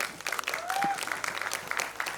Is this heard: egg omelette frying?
no